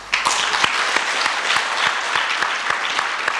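An audience at an education conference in Nairobi claps steadily and fairly loudly, a continuous patter of many hands with no talking over it.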